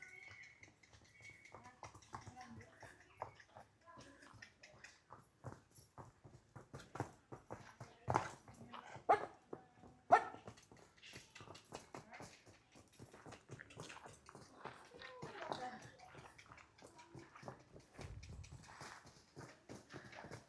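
Quiet, steady clip-clop of hooves as a mare walks at an even pace, with a few louder footfalls in the middle.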